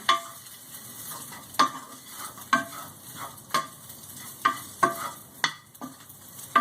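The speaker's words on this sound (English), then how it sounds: "I'm going to go ahead and add my sauteed peppers to it. Stir those around a little bit." Sauteed peppers sizzle steadily in a hot pan for Philly cheesesteak while a utensil stirs and scrapes, with sharp clacks against the pan every second or so.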